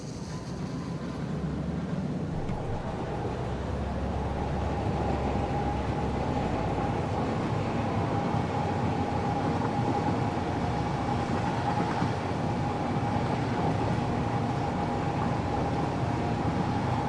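A freight train in a factory-building game rolls along at steady volume, a continuous low rumble with a faint sustained tonal hum above it and no gaps throughout.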